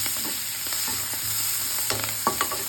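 Ingredients for colour rice sizzle steadily in a hot pan while a spoon scrapes and stirs, producing a few sharper clinks near the end, close up with a constant frying hiss and no voices.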